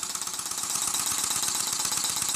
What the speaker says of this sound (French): donc le moteur en marche.